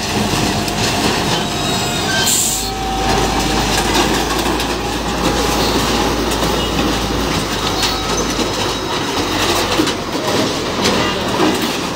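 A train runs along a railway line near Sankipara, Mymensingh, with steady rumbling wheels, clattering cars and occasional squeals, loud and continuous throughout with faint birds in the background.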